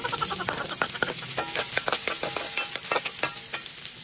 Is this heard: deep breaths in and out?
no